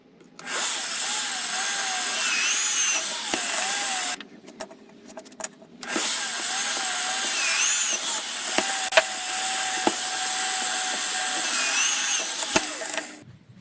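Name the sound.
drilling holes in knife spring and blade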